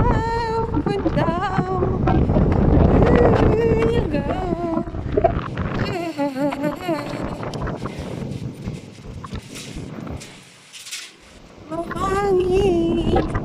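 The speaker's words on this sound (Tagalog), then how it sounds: "Ang lakas ng hangin!" Strong night wind roars and buffets the microphone in a steady broadband rush, dipping briefly near the end. Voices with a tonal, sung or shouted quality sound over it throughout.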